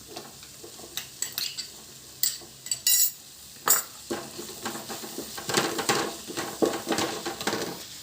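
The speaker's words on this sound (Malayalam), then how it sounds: "നന്നായിട്ടൊന്ന് ഇളക്കി കൊടുക്കാം" Tomatoes being stirred into a Kerala-style crab roast in a pan: a spoon scrapes and clinks against the metal again and again in irregular bursts over a steady low sizzle, with no talking.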